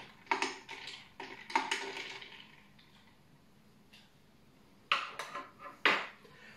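A bar spoon gently stirs an Air Mail cocktail in a glass, giving short clinking and rattling bursts near the start and again toward the end, with a quieter pause between, close by.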